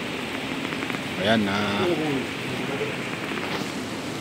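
Steady rain falling in Mandaluyong, a continuous broadband hiss of drops that holds evenly throughout, with someone speaking briefly over it.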